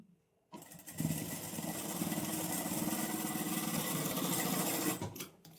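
Electric sewing machine running a seam along the edge of a kurti: after a brief start, a fast, even, buzzing run of stitches for about four seconds, close and loud, then it stops abruptly.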